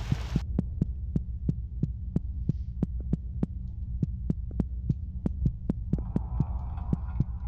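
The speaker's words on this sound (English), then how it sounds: "It sounds like maybe like radio distortion?" Throbbing hum in the video game Psychopomp Gold, like radio distortion: a steady low drone pulsing in regular, evenly spaced sharp beats, like a slow heartbeat, with no talking.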